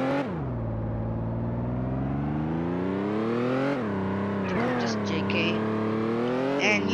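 A car engine in the Roblox video game revs in long harmonic sweeps, dropping after a sharp start, then climbing and surging again, loud and close throughout.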